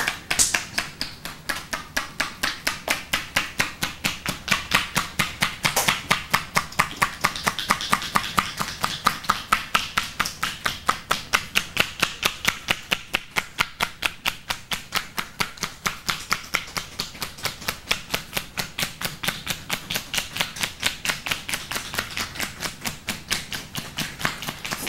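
Shiatsu 'duck quacks' percussion with the hands on a person's back: a long, steady run of quick, sharp, evenly spaced taps, close and fairly loud, continuing without pause and with no speech.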